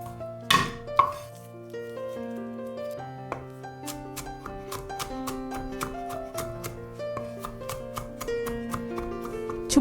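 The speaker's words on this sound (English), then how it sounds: "Chop the garlic cloves." A knife taps steadily against a cutting board while chopping garlic cloves for a salt and pepper tofu dish, a fast, even run of close, crisp knocks with a faint ringing hum underneath.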